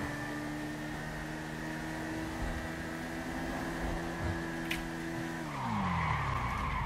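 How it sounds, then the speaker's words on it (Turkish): A motorcycle in GTA 5 skids with a sustained tire squeal over a droning engine, steady and fairly loud, its pitch dropping near the end as the bike slows. "Kaymasını bir kez daha inceleyelim."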